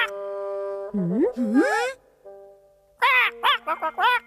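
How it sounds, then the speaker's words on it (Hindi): A newly hatched cartoon duckling in a Ninja Hattori episode quacks in a series of squeaky, sliding calls, a few longer ones followed by a rapid burst of short, clear quacks, loud and close, alone. "बत्तख का बच्चा?"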